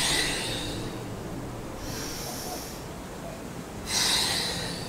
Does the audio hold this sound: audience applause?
no